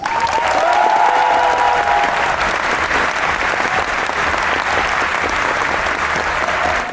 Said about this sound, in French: Un tonnerre d'applaudissements pour la directrice générale du Parc Astérix